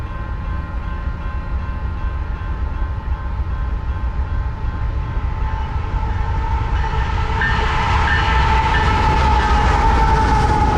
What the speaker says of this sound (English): here is NS 8099 on an eastbound mixed freight